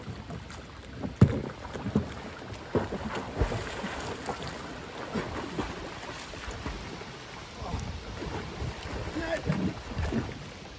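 Water sloshing and knocking against a canoe hull as someone shifts their weight climbing in, with wind buffeting and a voice talking at times.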